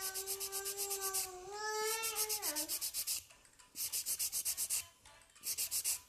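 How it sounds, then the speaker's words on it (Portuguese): A nail file rubs back and forth on a poligel nail in quick rhythmic bursts of close, gritty strokes, with short pauses between sets and a brief faint tonal sound partway through. "Vamos ter que limar um bocadinho mais."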